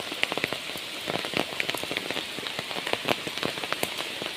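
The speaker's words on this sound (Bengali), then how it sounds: "বৃষ্টি অনেক বেশি" Heavy rain pours steadily during a stormy day, close and loud, with dense patter and sharp drops striking surfaces nearby and no voices.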